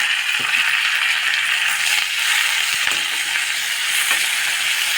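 Chopped tomatoes sauté in a hot pan, giving a steady, close sizzle that runs throughout, with a few faint clinks and scrapes of the utensil against the pan.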